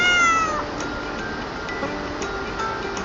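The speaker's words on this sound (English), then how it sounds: "The cat replied, too." A cat meows once at the start of a children's bedtime story, a clear falling cry followed by a steady ticking like a clock under soft background sound.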